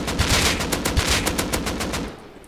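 A bare AK rifle in the game Rust fires in sustained full-auto bursts, loud and close. The rapid, even shots run for about two seconds before stopping.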